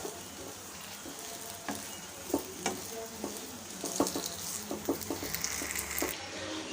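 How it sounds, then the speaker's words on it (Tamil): Rice flour dough is sautéed and stirred in oil in a pan over medium heat, giving a soft, low sizzle under repeated scraping and tapping strokes that grow busier toward the end. "அடுப்பை மிதமான சூட்லேயே வச்சுட்டு எண்ணெயோடு சேர்த்து நல்லா வதக்கி விட்டுக்கலாம்"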